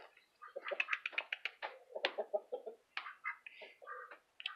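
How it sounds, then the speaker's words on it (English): A rooster at a family home with hatching chicks gives clucking and crowing calls close up, a rapid series of sharp, repeated bursts broken by brief pauses, with no talk. "that's how you heard a rooster"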